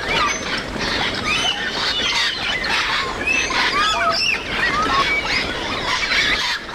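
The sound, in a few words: flock of grey parrots calling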